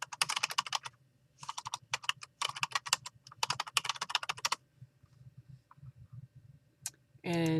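Bursts of rapid clicking and tapping at a computer while navigating a library website, close and quiet, broken by brief pauses and a short sound at the very end.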